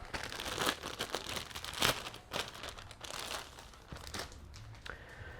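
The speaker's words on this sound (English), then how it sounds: "When you start building these kits, you end up having to open a lot of plastic bags." Plastic bags holding model kit parts for a Tamiya Comical Grasshopper are crinkled and torn open, a steady run of close, bright crackles and rustles with several sharper crunches.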